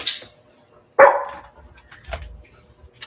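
A dog gives a few short, sharp barks, close and fairly loud, separated by quiet gaps, with faint household sounds between them.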